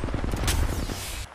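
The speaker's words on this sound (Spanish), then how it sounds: "Pues escucho disparos, ojo." Rapid bursts of automatic gunfire ring out in an Apex Legends match, a dense rattling volley lasting about a second before cutting off.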